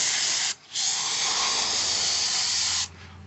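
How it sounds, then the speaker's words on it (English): Carb cleaner sprayed from an aerosol can onto a Homelite 3514C chainsaw, heard up close as a loud steady hiss that stops briefly near the start, then resumes and runs for about two seconds before cutting off. "You just spray it down."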